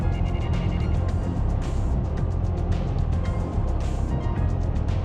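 Steady engine drone of a car driving in the video game The Silver Case, a constant, fairly loud motor hum with no pauses.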